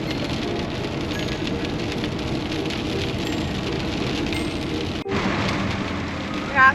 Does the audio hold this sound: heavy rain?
yes